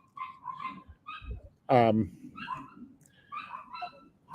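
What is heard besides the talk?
dogs barking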